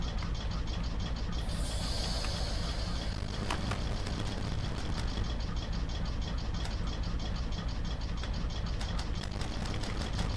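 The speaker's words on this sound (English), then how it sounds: "once you hear the air compressor kick on, that means the locomotive is ready to go" Locomotive air compressor running in the Garry's Mod train game, a steady, dense mechanical chugging and rattling drone that stays constant throughout.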